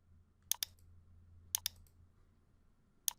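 Mouse clicks on the export button in Inkscape: three quiet pairs of sharp clicks spaced about a second apart over a low hum, with no talking.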